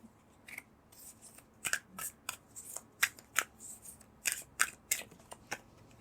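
Tarot cards are shuffled close by in quick uneven bursts of crisp riffling and slapping, a dozen or so sharp flicks with brief pauses between them and no talk.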